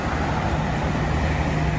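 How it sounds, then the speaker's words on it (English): Buses roll past on a city street in Russia, giving a steady broad rumble of passing traffic at moderate distance with no talk. "And you saw some buses go by."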